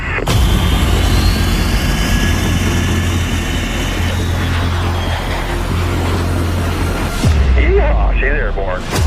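An MQ-25A Stingray Navy drone's jet engine roars steadily during its takeoff run, a loud sustained whine and rumble, with radio voices talking over it before the sound drops away near the end.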